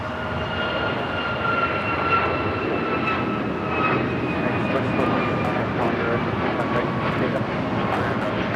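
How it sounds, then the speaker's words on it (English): A United Express SkyWest Embraer E175 jet lands at Los Angeles airport, its engines a sustained roar with a whining tone that slowly falls in pitch, while a voice talks faintly over it. "This flight coming in from San Diego, United Express SkyWest, flight 5249."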